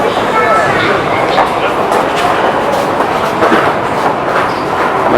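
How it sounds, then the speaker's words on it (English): A train rumbles along steadily with rhythmic clickety-clack from the wheels, loud and close, as though heard from on board. "Nice train."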